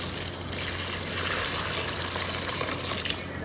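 Water pours steadily onto a plant, a close, continuous splashing gush with no break and no voices.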